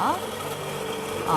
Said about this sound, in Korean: 갈리는 소리가 들리시죠?